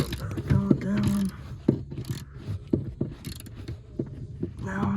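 A ratchet tightening a bolt inside a 2005 Ford Expedition during interior reinstallation gives several short bursts of close clicking, with brief creaks and a little faint talk between strokes.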